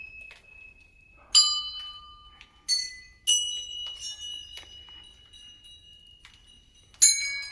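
Temple bells at Gangnath Temple in Nainital ring out in several separate bright, metallic strikes, each chime lingering and fading before the next, with smaller tinkling rings between them and no talk.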